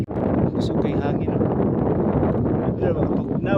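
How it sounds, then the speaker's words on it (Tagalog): Wind buffets the microphone while cycling an asphalt road beside hills on a loop ride near Gingoog, a loud continuous rumble with someone talking over it. "Sukay hangin."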